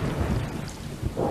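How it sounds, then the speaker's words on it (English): Rain falls steadily in the video game Stray, with a low rumble of thunder rolling underneath and swelling again near the end. The storm is heard alone, with no voices. "I wish it'd stop raining."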